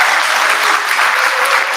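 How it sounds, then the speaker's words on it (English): Enthusiastic audience applause for Michael, a speaker at a talk about shared channels, heard as a short, loud burst of dense clapping from a close crowd. "Can we get an enormous round of applause?"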